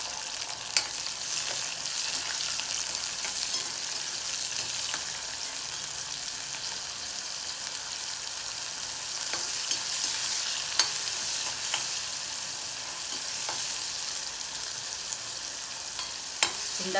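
Halved green turkey berries sautéing in oil in a pan give a steady, dense sizzle with faint stirring scrapes and occasional crackles throughout, close and continuous with no voices.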